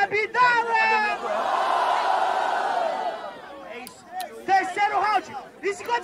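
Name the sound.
rap battle audience cheering and shouting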